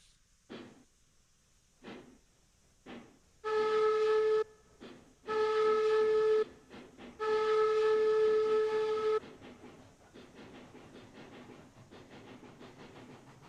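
A steam train whistle in the video game RailRoads Online blows three long blasts over the chuffing and clatter of a locomotive, with rhythmic puffs before and after.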